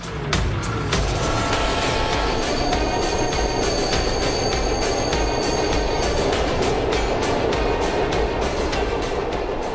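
Orange Line metro train, one of the new Chinese-built five-car trains, running along its track with a steady loud rumble, rail hiss and high wheel squeal throughout, close by and without speech.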